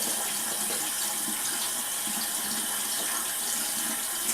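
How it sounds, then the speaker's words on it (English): Tap water runs steadily into a sink while makeup brushes are rinsed: a close, continuous rushing splash with no break and no voices. "I'm going to rinse that again so the water's running kind of clear"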